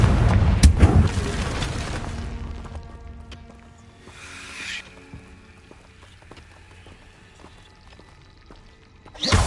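A Confringo blasting spell goes off in the Hogwarts Legacy video game, a loud close boom at the start that fades into a long rumbling tail, with a smaller burst near the middle and another sharp blast at the end.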